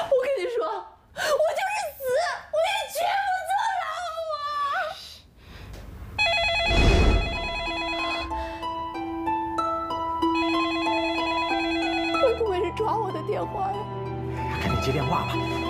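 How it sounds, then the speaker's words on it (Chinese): A telephone rings with a steady electronic ringtone through the middle of the clip, close and clear, right after an agitated exchange between a couple at home, and talk resumes over the final ringing. "电话呀， 赶紧接电话吧。"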